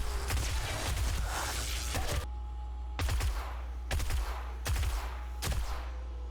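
Gunfire in the video game 7 Days to Die: a dense volley of rapid shots, then several separate loud bursts spaced about a second apart, close and sharp.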